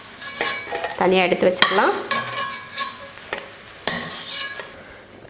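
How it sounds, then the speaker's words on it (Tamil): Brinjal pieces stirred and sautéed in hot oil give off a steady sizzle, broken by several sharp scrapes and clinks of a spatula against the pan, while someone speaks briefly. "அதனால் இந்த மாதிரி எண்ணெயில் வதக்கி எடுத்துக்கணும்."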